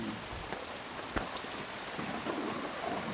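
Heavy rain pours down in a steady, even hiss. One sharper drop or knock stands out, and the whole sound stays fairly quiet and distant.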